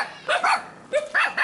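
Dogs bark on a street in Kontum, Vietnam, in two quick bursts of sharp, close yaps, each pair of barks separated by a brief pause.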